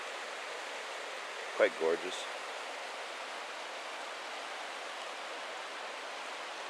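A steady roar of the Johnston Canyon river in Banff National Park fills the whole stretch, with someone briefly speaking over the rushing water near the start.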